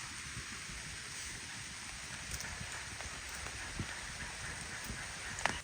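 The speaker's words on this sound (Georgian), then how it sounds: "წამოვიდა წვიმა მეგობრებო" Light rain begins falling in a forest, a steady soft patter on leaves with occasional closer drops, gentle and continuous throughout.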